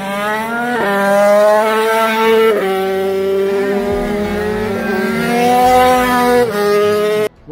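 A Honda RS 80cc racing motorcycle engine screams close and loud through a race weekend in Spain, revving high and dropping back several times as the rider shifts through the gears.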